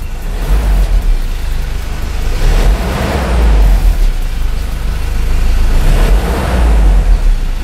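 A Ford Ranger engine runs loud and close with a rough, rumbling idle that swells in a few revving surges.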